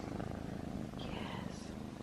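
A cat on a lap purrs steadily and close, a soft rhythmic rumble with a faint voice murmuring in the background.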